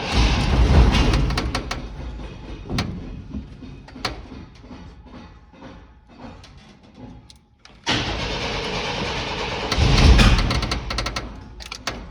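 An older car engine cranks and catches, then runs unevenly with sputters and surges after an injector repair, amid a possible timing fault; a second start and brief rev follow, loud and close, with no talk.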